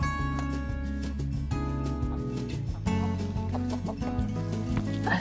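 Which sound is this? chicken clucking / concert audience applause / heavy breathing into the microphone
chicken clucking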